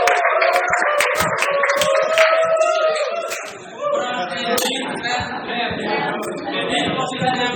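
A class in a manual-transmission maintenance lesson breaks into short scattered clapping, a burst of claps mixed with voices and chatter that trails off into talk.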